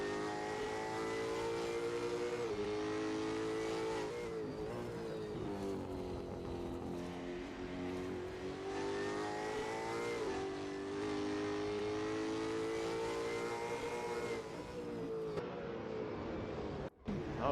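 Supercars race engines in a sim racing game at an Adelaide round, a continuous dense roar of many cars revving and shifting together, steady and loud with no talk.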